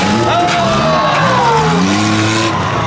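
At a Car Wars ramp jump competition, a car engine revs hard, loud and continuous, its pitch sweeping up and down throughout, with crowd voices talking over it.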